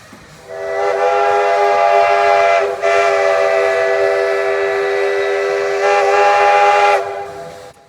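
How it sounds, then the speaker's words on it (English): Steam locomotive number 2 at Hesston Steam Museum, passing through trees near the locomotive shops, sounds a long sustained whistle that breaks briefly and resumes, loud and steady for about six seconds before fading, with no talk. "we heard number 2 rumbling in the distance"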